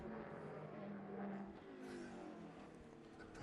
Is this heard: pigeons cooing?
no